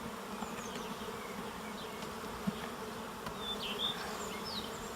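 Honeybees buzz at an open beehive in an apiary, a faint, steady hum with individual bees droning past now and then.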